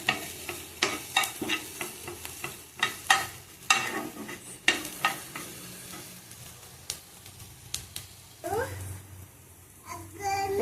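Egg Maggi noodle prep in a home kitchen: oil frying in a pan with repeated sharp clinks and scrapes of a spoon stirring, uneven bursts close by, fairly quiet overall with a soft sizzle between strikes.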